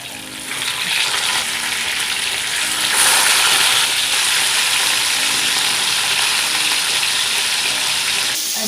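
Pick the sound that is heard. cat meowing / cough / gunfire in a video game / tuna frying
tuna frying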